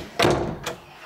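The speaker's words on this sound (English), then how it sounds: "I'm gonna close this door now." A bedroom door closes nearby with a quick bump and latch, then a softer second knock a moment later, in a quiet room.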